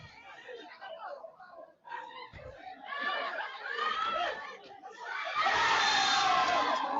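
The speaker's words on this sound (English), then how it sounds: "The crowd is raving with excitement." A crowd at a women's football match in Uganda, Ndejje versus KCCA, builds from scattered shouts and chatter into loud, sustained cheering in the last seconds, heard under a commentator's voice.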